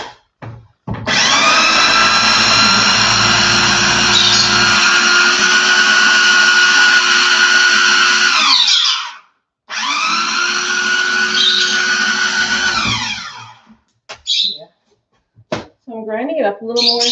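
An electric kitchen grinder whirs loudly, blending breadcrumbs and garlic powder for homemade eggplant parmigiana, in two long steady bursts separated by a brief pause, followed by short voices at the end.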